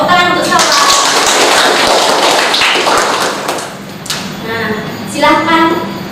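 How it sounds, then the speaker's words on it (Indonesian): Classroom audience of student teachers claps for a classmate during a biology teaching practice lesson, a dense burst of hand claps mixed with talking voices that thins out toward the end. "Beri tepuk tangan untuk Salwa."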